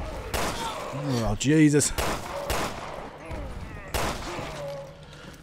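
Gunshots in Resident Evil Revelations 2, several sharp bangs spread through the passage, mixed with a creature's moaning cries and a man's brief exclamation.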